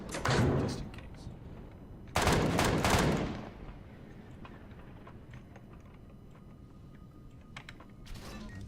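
Minigun firing in the space survival game Empyrion Galactic Survival: two loud sustained bursts of rapid fire, a short one at the start and a longer one a couple of seconds later, then quieter game ambience with faint scattered clicks.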